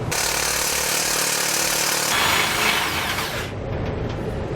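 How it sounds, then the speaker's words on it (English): A power tool fitted with a long extension and a 21mm socket drives out frame bolts on a 2012 Tiffin Allegro motorhome, whirring loudly and continuously for over three seconds before cutting off into quiet. "so you want to grab a long extension and a 21mm socket,"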